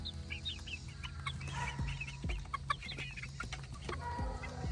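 Meat chickens near harvest size cluck and chatter on a farm, a busy cluster of short, fairly close calls over low background rumble, with no talking.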